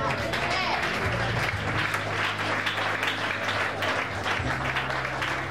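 A church congregation applauds during a Sunday service with steady, sustained clapping from a crowd, while a voice speaks over it throughout.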